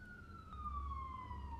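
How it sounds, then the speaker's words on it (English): A police siren wails outside, faint and distant, its single falling tone sliding down as it passes under a low background rumble. "can never escape the sirens"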